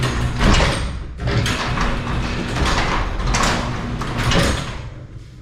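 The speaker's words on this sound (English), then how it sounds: "I am gonna try to lift this door to take the place of that spring" A residential garage door lifted by a remote door opener during a spring replacement job, giving a continuous mechanical rumble and rattle that runs throughout, fairly loud and close, with brief dips and swells as the door moves.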